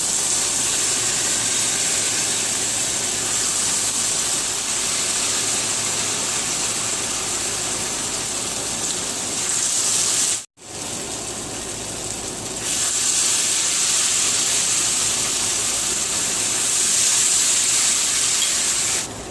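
Lace cornbread frying in a pan, a steady loud bubbling sizzle with hiss, interrupted once by a brief pause midway, no talking over it.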